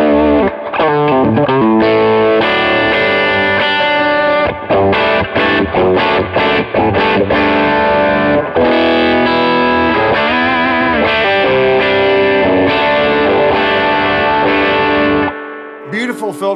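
Heavily distorted electric guitar with Filtertron pickups through a cranked Carr Super Bee tube amp rings out loudly and continuously, with sustained overdriven tone and some strummed changes, ending abruptly.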